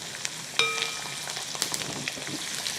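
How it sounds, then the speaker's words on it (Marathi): Coriander frying in hot oil for a traditional cucumber ghavan dish, a steady close sizzle with a sharp metallic tap near the start and small crackles throughout, no voices. "तर यामध्ये कोथिंबीरही तेलामध्ये तळली जाते."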